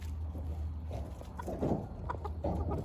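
Silkie chickens and turkeys cluck softly in a backyard flock under light rain, low murmuring clucks and a few brief calls over a steady low hum, fairly faint with no talk.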